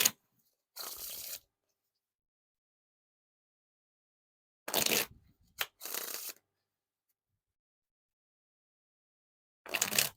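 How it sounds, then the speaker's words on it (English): Close, crisp riffle shuffles of a deck of Fulton's playing cards: four separate bursts of rapid fluttering card slaps, each about half a second, with long silences between and no talking. "Now time for the Wiffle Shuffle or Bridge Shuffle."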